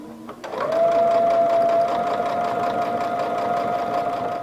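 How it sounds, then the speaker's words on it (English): A sewing machine stitches fringe onto the edge of a towel, starting up after a short moment and then running as a steady, close, even mechanical whir with a fast rhythmic clatter that holds to the end. "Place your fringe up at the top edge and stitch it down."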